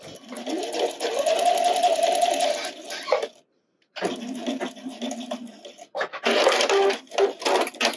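A sewing machine runs a basic straight stitch on a 1/4 inch seam of a wireless bra, with a Microtex needle fitted; steady close motor whir in two long bursts separated by a brief pause, then a shorter burst.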